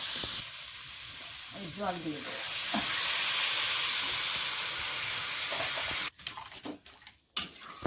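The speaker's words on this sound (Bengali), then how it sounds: "জল দিয়ে দেবো" Water is poured into a hot cooking pot, a steady hissing sizzle flaring up as it hits the pan and continuing for several seconds before cutting off into brief clatters and quieter handling.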